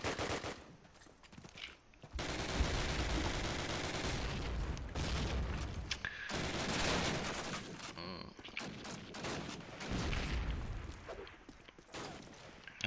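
Dense gunfire from Call of Duty multiplayer on the map mp_dawnville, with long bursts of rifle and machine-gun fire overlapping almost without pause, loud and close, with brief lulls.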